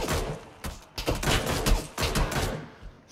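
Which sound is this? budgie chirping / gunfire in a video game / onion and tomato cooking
gunfire in a video game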